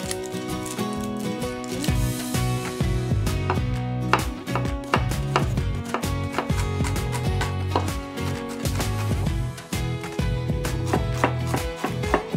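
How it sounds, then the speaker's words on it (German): Onion and garlic being finely chopped with a knife on a board for spinach dumplings, rapid close rhythmic knocks of the blade repeating steadily throughout, loud and alone without talk. "Zunächst Zwiebel und Knoblauch schälen, klein schneiden und in Butter dünsten."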